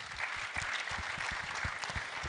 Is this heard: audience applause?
yes